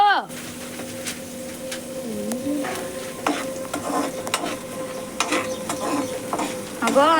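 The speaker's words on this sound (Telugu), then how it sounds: "అన్నీ మిక్స్ చేస్తూ ఉంటే ఉల్లిగడ్డ ఎర్రగా రావాలి లైట్గా." Sliced onions frying in oil in a pan, a constant crackling sizzle with scraping spoon strokes stirring through them and a soft voice speaking in the background.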